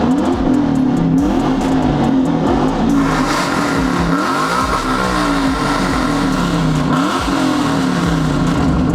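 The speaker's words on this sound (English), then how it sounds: "that's an American V8 right there" An LS6 American V8 swapped into an S2000 revs hard at a car club meet, with loud repeated throttle blips and rising, falling engine roar up close.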